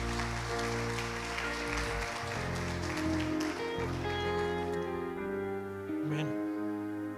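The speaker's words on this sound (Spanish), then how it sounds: "Demos un aplauso al Señor" A church congregation applauding together, a dense, steady wash of clapping that stays loud and continuous before thinning out near the end.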